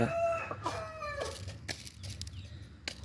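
A young farm rooster lets out a few short, harmonic calls and clucks nearby, with rustling and scattered clicks in the quiet background.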